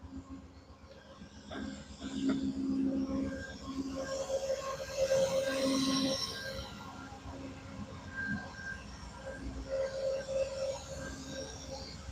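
A BNSF or Amtrak California Zephyr train rumbles past at moderate distance in Ottumwa, Iowa, wheels clattering with occasional squeals and tonal whines, steady for several seconds.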